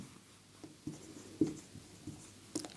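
Marker or chalk taps and scratches on a board, a few short strokes and light knocks at close range in a quiet room.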